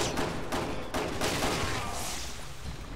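Rapid gunfire in the video game Resident Evil 6, several sharp shots in quick succession at the start followed by a fading rumble, loud and close with no talking.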